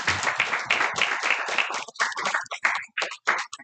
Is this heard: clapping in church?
yes